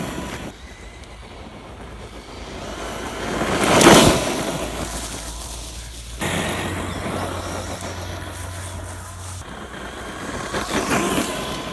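An HSP 1/10 scale brushless RC monster truck drives outdoors, a steady rushing motor and rolling noise that swells to a louder peak partway through and then carries on at a moderate level.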